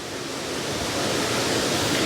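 River water rushing steadily along a channel where large fish swim against the current, a dense, even broadband roar close by with no voices over it.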